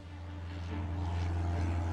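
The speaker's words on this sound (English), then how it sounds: "Simon flew his plane far out in the valley." A propeller plane drones steadily over a valley in an audio drama scene, its low engine hum and buzzing harmonics rising slightly as it passes, with no voices.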